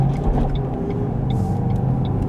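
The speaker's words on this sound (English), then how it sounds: "Oh yeah, that race car" Race car engine at a Cars & Coffee show in Southlake, a steady loud low rumble close by with no talk, running evenly throughout.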